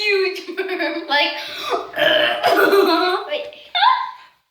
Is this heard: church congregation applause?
no